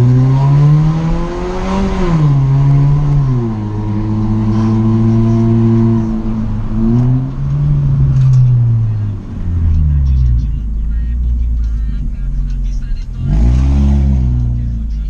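A Hyundai Veloster 1.6 engine revs up and down repeatedly through a stainless steel exhaust diffuser, loud and close, with a deep throaty rumble rising and falling in pitch.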